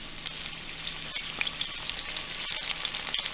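Breaded spicy pickle chicken pieces frying in hot grease, giving a steady close crackling sizzle with small pops throughout and no voices.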